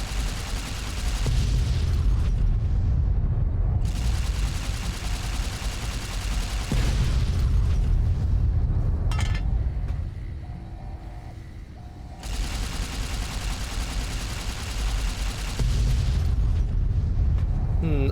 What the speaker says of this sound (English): I'm just gonna detonate all the other missiles.